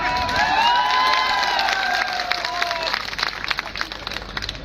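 At a political rally, a crowd cheers and applauds loudly with whistles and shouts, then settles into scattered clapping.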